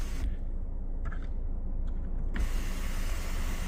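Electric sunroof on a 2011-2019 Ford Fiesta or Focus sliding closed, a steady low motor hum inside the car running for about two seconds before a soft thud as it stops.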